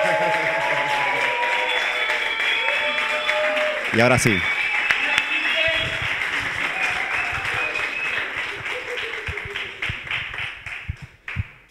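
A conference audience breaks into sustained applause for a presenter, with dense clapping running the whole stretch and someone speaking over it before it tapers off near the end.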